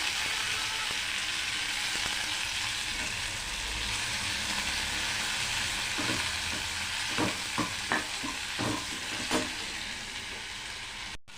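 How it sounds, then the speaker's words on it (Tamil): Thuthuvalai leaves sautéing in a pan with lentils, a soft continuous sizzle, with a run of light stirring scrapes and taps near the end. "இப்போ தூதுவளை கீரையை போட்டுக்கிறேன். க்ளீன் பண்ணி வச்சு போட்டு வதக்கிக்குவோம்"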